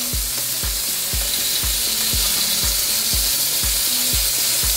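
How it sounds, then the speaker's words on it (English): Bacon frying in a pan gives a steady, loud sizzling hiss throughout, with a regular low thumping pulse beneath it and no voices. "Go ahead and get the bacon going."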